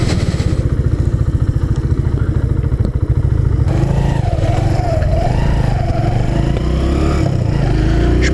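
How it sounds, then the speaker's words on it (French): A motorcycle engine pulses at a steady, throbbing idle, then revs up and accelerates, its pitch rising and wavering, close and fairly loud with a slight mechanical clatter. "le problème de ces motos là, c'est que au niveau les vibrations, quand on commence à monter un peu en vitesse, il y a beaucoup de vibrations"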